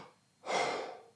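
A single deep breath drawn in as a breathing demonstration for the Wim Hof method, a soft rushing inhale heard close and quiet with no talk.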